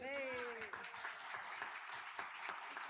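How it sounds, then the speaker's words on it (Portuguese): Applause from the audience at a library science innovation and entrepreneurship forum, a steady patter of many hands clapping. A voice is heard over it near the start. "Vamos dar uma salva de palmas?"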